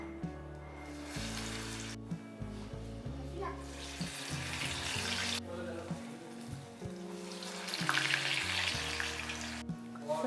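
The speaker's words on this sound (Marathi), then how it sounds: "अशा पद्धतीने आपण वडे जे आहेत ते व्यवस्थित तळून घ्यायचे आहेत" Medu vada frying in hot oil, a steady sizzling hiss that runs continuously at moderate level, with no talk over it and faint background music.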